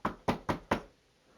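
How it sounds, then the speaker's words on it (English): Four sharp knocks on a locker room door at a wrestling event, evenly spaced and close, then quiet. "we're gonna try to knock on the door"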